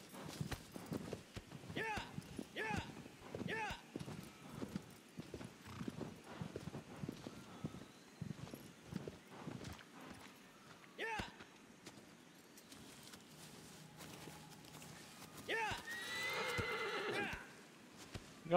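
Rhythmic clip-clop of horse hooves with a clear horse neigh near the end, under occasional voices in the video game Shadow of the Colossus.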